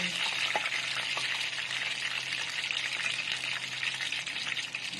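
Pork balls deep-frying with garlic and pepper give a steady, dense sizzle and crackle in hot oil, close and even throughout with no talk.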